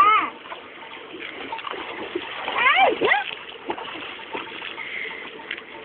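Splashing and sloshing in dirty water as someone wades in, with irregular splashes and water movement, some louder bursts mid-clip, and voices talking over it.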